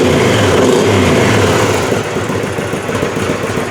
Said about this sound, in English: There it is, the 1999 Kawasaki Vulcan Drifter.